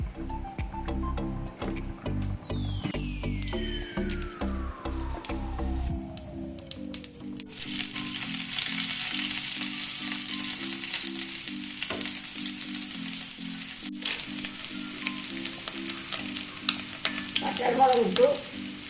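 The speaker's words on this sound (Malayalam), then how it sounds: "നമുക്കിനി കടുക് വറുക്കാം" Mustard seeds crackle and sizzle in hot oil in a pan for papaya and cowpea erissery, a steady close frying hiss with popping bursts, light stirring and scraping, and ringing tones over it.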